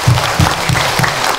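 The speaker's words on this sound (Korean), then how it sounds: "여러분들 자축 박수 한번 치십시오." A Buddhist temple congregation at Gwangryunsa on Dobongsan claps together after a sermon, four loud rhythmic bursts of unison applause at an even pace.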